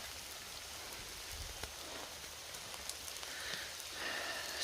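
Rain falling steadily on a muddy rural road during a thunderstorm, a constant soft hiss of drops with a few sharper patters, heard alone.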